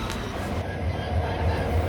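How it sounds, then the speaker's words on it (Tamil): A train rolls steadily along the rails on a scenic Indian line, with a continuous low rumble of wheels and carriages close by and no voices. "இந்த ட்ரெயினில் பயணிக்கிறது அவ்வளோ அழகுங்க"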